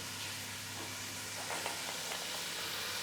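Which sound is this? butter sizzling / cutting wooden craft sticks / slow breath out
butter sizzling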